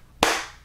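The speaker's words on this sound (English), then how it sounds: "Clap test, clap test, clap test, clap test." One sharp hand clap rings out close by in a room treated with acoustic foam, with a brief echoing tail that fades away quickly.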